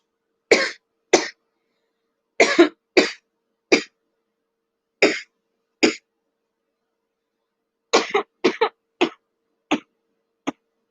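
Someone coughs into a pillow in a string of short, sharp bursts, some single and some in quick pairs or clusters, spread over several seconds of otherwise silent room.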